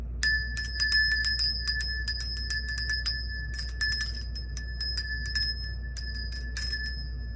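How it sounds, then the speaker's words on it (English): A bell is rung repeatedly in a slow, uneven rhythm to cleanse a space, each clear, bright strike ringing out and overlapping the last over a steady low hum, with no talking. "let's begin by ringing the bell and cleansing the space."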